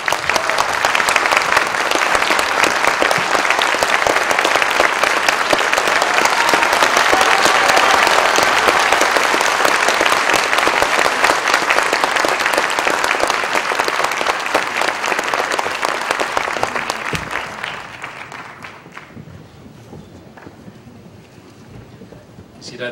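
A conference audience gives a long, loud standing ovation to welcome a speaker, with dense sustained clapping that fades over the final few seconds into quiet.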